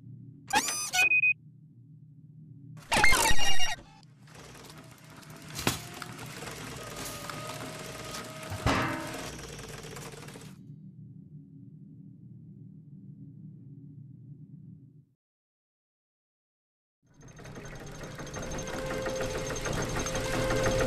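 A machine's engine in The Book of Unwritten Tales 2 video game runs with a low steady hum, faulty and troubled, punctuated by clanks and rattling bursts, then cuts to silence before a busier mechanical noise resumes.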